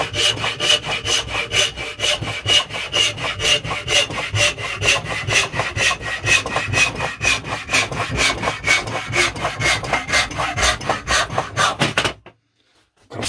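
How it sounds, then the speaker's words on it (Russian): A band saw with a new blade cuts through wood in a loud, steady rasp that pulses at a regular rate, then stops abruptly just before the end. "Проверим, как пилит."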